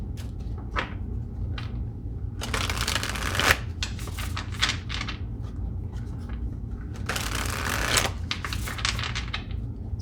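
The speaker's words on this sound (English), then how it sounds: "So let me get a few tarot cards here and see." Tarot cards are shuffled by hand in close, crisp riffling bursts that repeat several times over a soft background hum.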